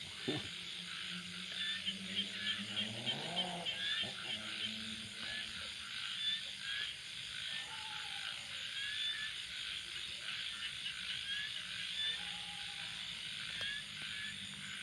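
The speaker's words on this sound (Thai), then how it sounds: "โอ้ฟังเสียงกบเสียงเขียด" Frogs croak steadily through a night chorus of insects, a continuous loud bed of trilling and calls with a voice briefly audible near the start.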